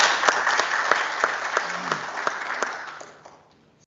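Members clapping during a provincial legislative session on an appropriation bill, a short burst of close, crisp hand claps that thins out and fades to quiet within a few seconds.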